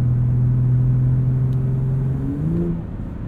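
A 2021 Ford F-150 Raptor 4X4 Supercrew engine while driving, a low, steady rumble that holds, then drops and shifts in pitch near the end, close and loud with no talking.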